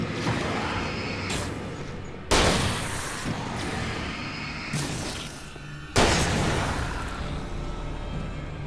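Heavy rifle shots in the Alan Wake video game, three loud booming blasts spaced a couple of seconds apart, each trailing into a sustained rumbling wash with no talking.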